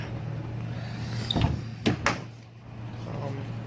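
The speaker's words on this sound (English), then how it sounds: "let me pop one of the doors open" Two sharp clunks from a 1995 Dodge Neon's door being opened, close by, over a steady low hum.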